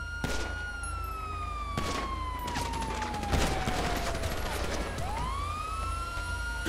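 Gunfire in a police role-play video game: a rapid volley of sharp shots over wailing police sirens that sweep up and down, busy and loud throughout.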